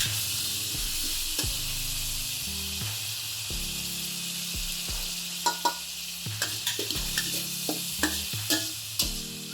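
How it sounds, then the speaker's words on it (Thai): Bok choy stir-fried with oyster sauce in a hot pan, a steady sizzle and hiss running throughout with repeated scraping and clacking strokes of a spatula against the pan, growing more frequent toward the end. "คลุกเคล้าให้เข้ากัน"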